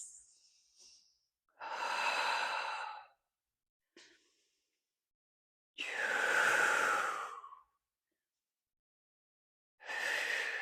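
Slow, deep breaths during a yoga side plank: long audible inhales and exhales, close and breathy, separated by silent pauses, with no talking.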